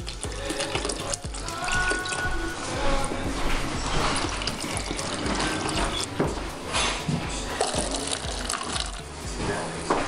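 Jungle juice pours in a steady splashing stream from the nozzle of a drink dispenser at a cookout, continuous and fairly loud for about ten seconds with faint clicks from the tap mechanism.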